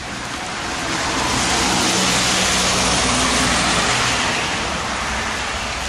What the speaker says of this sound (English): Some traffic going by on the highway.